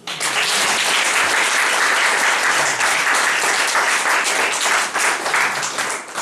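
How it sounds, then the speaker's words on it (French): A church congregation breaks into sustained, loud applause at a worship service, a dense wash of many hands clapping that fills the whole stretch and tapers slightly at the end. "Acclame Jésus"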